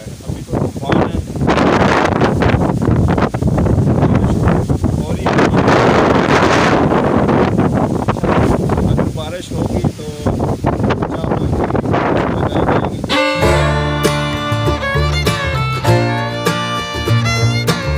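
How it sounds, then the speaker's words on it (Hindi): Strong, cold wind blowing outdoors under dark storm clouds before heavy rain, a loud continuous rush buffeting the microphone for most of the clip, before music with clear tonal lines takes over near the end. "ठंडी हवा चल रही है।"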